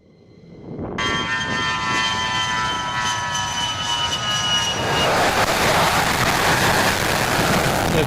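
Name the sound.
A-10 Warthog jet aircraft flying overhead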